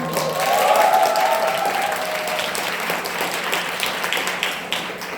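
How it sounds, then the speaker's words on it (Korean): Audience at a Korean Christian school prayer gathering applauding to welcome a pastor, moderate clapping that peaks early then thins out, with a brief tonal sound near the start. "그렇게 박수가 크지는 않네요."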